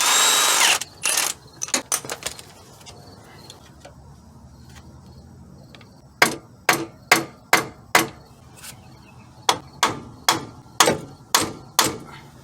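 A 17mm bolt being worked loose from the power steering pump bracket on a Mitsubishi Endeavor, with a short burst of tool noise followed by a steady series of sharp, evenly spaced ratcheting clicks, close and clear.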